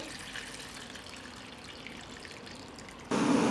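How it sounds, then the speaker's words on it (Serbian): Hot water trickles and splashes steadily into a pot, then suddenly grows louder and fuller near the end as the flow strengthens. "U šerpu ću sipati vruću vodu"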